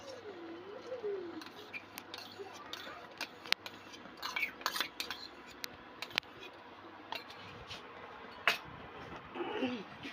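A spoon stirs patali gur payesh, date-palm jaggery rice pudding with milk, cashews and raisins, in a pot, giving faint scrapes and light metallic clinks against the pot at an irregular pace.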